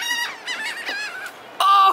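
Geese honking and squawking in a frantic burst as they scramble over tortilla chips tossed to them, with a loud, sustained honk standing out near the end.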